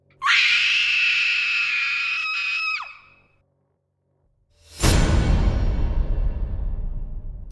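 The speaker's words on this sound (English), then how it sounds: "The princess's screams rang through the shoreline." A princess screaming on a shoreline in a horror tale, one long piercing shriek held for nearly three seconds that breaks off, then a pause before a loud crashing whoosh of noise that slowly fades.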